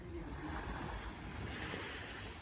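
Surf rolling onto a beach on the Caribbean Sea at Portsmouth, Dominica, a steady broadband wash of waves with some wind noise on the microphone, close and fairly loud, with no voices.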